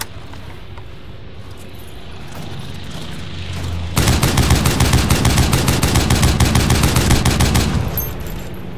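A Bren MKIII machine gun in the World War Heroes shooter opens up halfway through after a quiet lead-in, hammering out a loud, rapid, steady burst of shots for about four seconds before cutting off.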